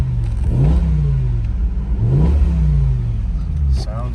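A 2008 BMW M6 Cabriolet's V10 engine, started cold, revs twice in quick succession, each rev rising sharply and then settling back to a loud, steady idle close by.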